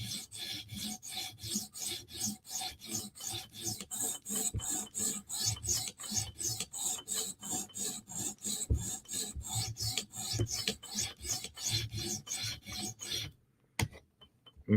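A Spyderco Para 3 knife blade stroked repeatedly across a TSProf Kadet sharpening stone, a steady, close rasping rhythm of even back-and-forth passes that stops abruptly near the end.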